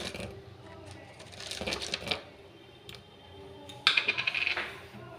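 Cashews and raisins drop into a pan, a quick scatter of small clicking and rattling hits, loudest in a burst near the end, with faint kitchen background.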